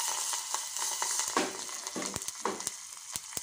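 Curry-leaf tadka sizzles steadily in a hot pan, a dense crackling hiss broken by several sharper pops and spits, close and fairly loud with no voices.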